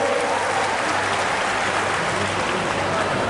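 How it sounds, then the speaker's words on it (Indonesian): Sustained applause from an audience at a Haornas 2023 (National Sports Day) ceremony, a dense steady wash of clapping held at even loudness throughout with no pauses. "Tepuk tangan dulu buat Bapak Prabowo."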